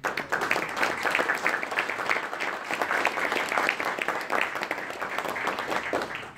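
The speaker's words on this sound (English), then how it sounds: "can we please have a round of applause for our amazing." Sustained audience applause closes an evening panel discussion on nuclear energy and LENR at a university club event, many hands clapping steadily and fairly loud for the whole stretch with no voice on top.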